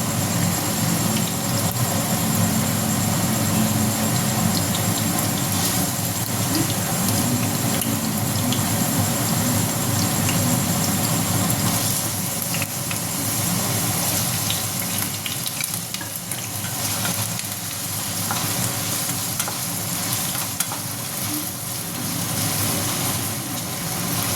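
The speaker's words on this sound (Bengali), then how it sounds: "আমি আগে আলুটা ভেজে নেব।" Diced potato cubes frying in ghee, a loud continuous hissing sizzle that holds steady throughout with slight dips, no voices over it.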